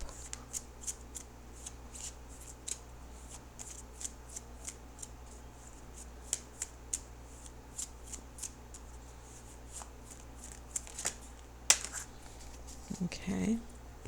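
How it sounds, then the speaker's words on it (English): Tarot cards being shuffled by hand, a run of crisp, close riffling flicks in an uneven rhythm with louder bursts toward the end, under soft intermittent talk. "what I will do is shuffle for an outcome card"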